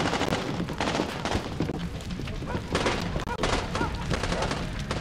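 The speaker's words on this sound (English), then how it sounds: "that machine gun!" Machine gun fire from the Mafia II video game, played on a phone through an emulator, rattles in dense continuous bursts with heavy thumps, loud and busy throughout with game voices mixed in.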